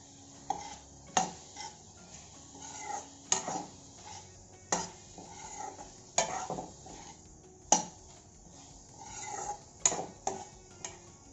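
Pineapple chutney with sugar and jaggery is stirred as it fries in a pan. A spoon scrapes and knocks against the pan in a steady rhythm of sharp clinks over a low, constant sizzle, and no one speaks.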